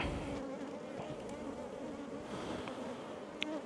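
A continuous low hum of honeybees fills an apiary during a full hive inspection on a very hot day. The buzz is faint and even, with a couple of brief louder passes near the end.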